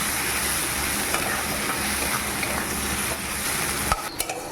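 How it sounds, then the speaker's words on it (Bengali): Mushroom curry stirred as it fries in a pan, a steady close sizzle with spoon scrapes throughout, ending in a few sharper clinks near the end. "এবার একটু ভালো করে একটু মিশিয়ে নিই"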